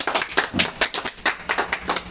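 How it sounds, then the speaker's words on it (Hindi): Audience members clap in welcome during a garlanding ceremony at an electro-homeopathy promotion event. The clapping is a rhythmic, fairly sparse patter of distinct hand claps at a steady pace, with no talk over it. "आप लोग ताली बजाकर स्वागत करें।"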